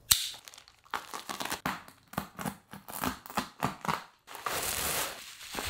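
Crinkling and tearing of plastic and cardboard packaging while a Keychron Q14 Max southpaw Alice-layout keyboard is unboxed, close and clear in a string of short rustles and crunches, ending in a longer steady crinkle.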